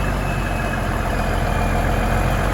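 A diesel truck engine, a 350 Big Cam fitted with a new Premco injection pump and injectors, runs steadily with a dense, even rumble, loud and close, with no voices over it.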